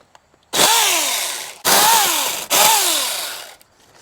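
A small SeeSii mini chainsaw buzzes through tree suckers in three loud, close bursts of about a second each. The motor whines up at the start of each burst and winds down between them.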